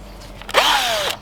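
A power drill spins a magnetic gold separator attachment used for cleaning gold from a bucket, one loud close whirring burst that rises in pitch, runs about half a second and winds down.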